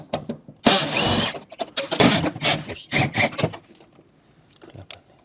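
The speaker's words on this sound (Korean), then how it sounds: "우측에 있는 나사 위에 하나, 아래 하나, 두 개 분해합니다." A power screwdriver backs out two screws holding the PCB box on a Winia stand fan, giving loud whirring bursts separated by short pauses and small handling clicks, close up.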